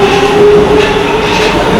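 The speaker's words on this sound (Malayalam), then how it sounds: "ഒരു പഴയ വിൻറ്റേജ് വൈബ് വരുന്ന പോലത്തെ ട്രെയിനാണ്." A vintage-style metro train at an open-air station in Hungary, loud and close, with a steady rumbling roar and a faint whine running through the brief moment.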